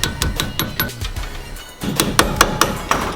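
Sharp metallic hammer taps drive the brake pad pins back into a Nissan GTR brake caliper, a quick run of close, loud strikes, several spaced blows, then a pause before another steady series.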